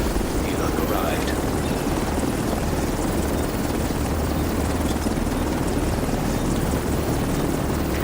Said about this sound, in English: Helo's ready for pickup.